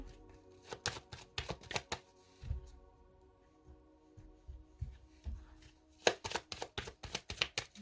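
Tarot deck being shuffled by hand, cards taken upright and reversed: quiet bursts of riffling and slapping card strokes in quick clusters, a pause with a low background hum, then a fresh flurry of shuffling.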